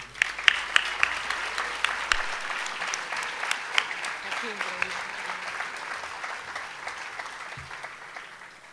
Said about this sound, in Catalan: Ens acomiadem a tots en un fort aplaudiment, si us plau.